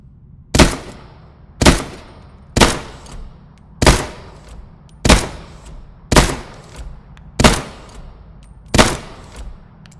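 Gunfire on a training shooting range in the VR game Into the Radius 2: nine loud, close single shots spaced about a second apart, each a sharp crack with a short ringing decay.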